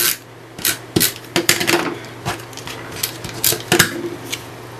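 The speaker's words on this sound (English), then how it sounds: "I'm going to adhere that to that there, and then I'm going to give it a trim." Embossed cardstock with a polka dot pattern being cut on a paper trimmer: a run of sharp scraping slices and clicks up close, several short strokes in irregular rhythm over a low steady hum, with no talking.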